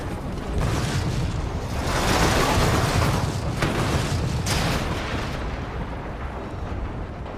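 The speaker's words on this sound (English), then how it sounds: "The rockets unleash a powerful conflagration." Anti-tank rocket blast in the Resident Evil 2 Remake game, a loud roaring explosion that swells and rumbles for several seconds before slowly fading, with no voices.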